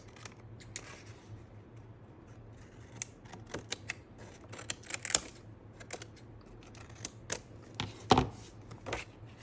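Excess paper is trimmed off a handmade scrappy card cover, giving quiet, irregular snips and clicks, close up over a low steady hum.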